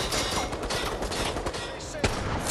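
Rapid turret gunfire crackles continuously in Resident Evil Resistance, with a dense rattle of shots and one sharper burst near the end.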